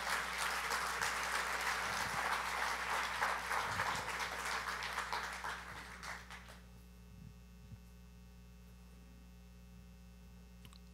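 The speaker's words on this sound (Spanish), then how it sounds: "Dale un aplauso al Señor, por favor." A church congregation applauds the Lord in steady, dense clapping for about six seconds, then the clapping fades out, leaving a low electrical hum and a few faint knocks.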